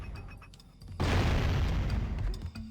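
A cannon in Jak & Daxter: The Precursor Legacy fires with a sudden heavy boom that rolls on for over a second and then fades, preceded by quieter game ambience and no talking.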